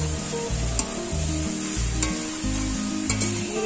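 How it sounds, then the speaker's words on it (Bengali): Bottle gourd with salt and turmeric sizzles in a pan while being stirred, a constant hiss punctuated by three sharp spatula clicks against the pan over a steady low hum, without speech. "নেড়ে চেড়ে নেব।"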